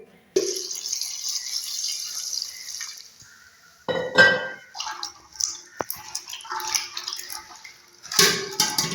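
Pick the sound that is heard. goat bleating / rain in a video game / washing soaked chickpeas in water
washing soaked chickpeas in water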